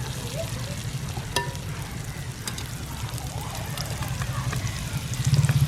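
Sliced onions fry in oil in a pan for a clam fry, sizzling steadily and fairly close, with a few faint clicks and a low hum underneath that swells near the end.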